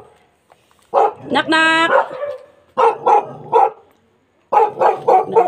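A dog barks in short bursts near a house's back door, loud and close, mixed with a person calling out in a Filipino home setting; the barks come in clusters separated by brief pauses.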